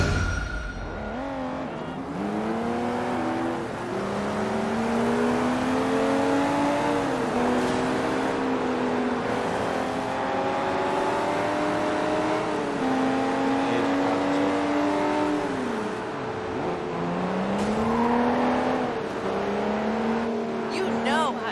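A car engine in the video game Sleeping Dogs drives and revs continuously, pitch rising and falling through gear shifts, loud and close, with voices talking over it.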